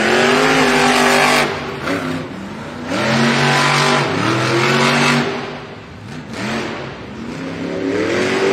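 Terminal Velocity, a monster truck, at a Monster Jam event in Tampa, Florida, its engine roaring in repeated loud revving surges that rise in pitch and drop away, close and powerful, with no talking.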